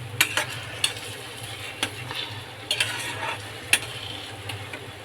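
A spoon scrapes and stirs a filling frying with garam masala in a pan, giving steady sizzling with irregular metallic clicks and taps up close, no voices.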